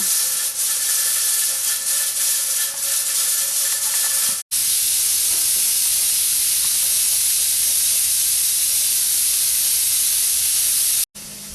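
A pressure canner hisses loudly and continuously as it releases steam after processing pumpkins, a dense, close rushing sound broken only by two brief cutoffs.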